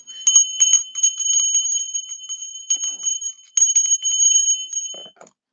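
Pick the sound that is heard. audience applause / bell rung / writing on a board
bell rung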